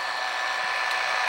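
Steady hiss of shortwave radio static on an empty frequency around 14800, a constant even noise with a faint tone, fairly soft and with no voices.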